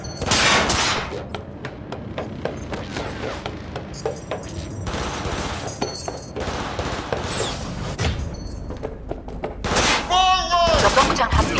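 Heavy gunfire in Cyberpunk 2077, sustained fusillades and machine-gun bursts in close, loud volleys with brief lulls between, mixed with impacts and a voice speaking in places.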